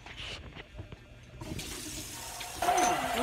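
Water pours into a peanut butter mixture while making homemade chocolate peanut butter treats, a steady splashing trickle that swells louder near the end, with faint voices in the background.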